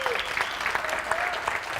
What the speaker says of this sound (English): Give John a nice round of applause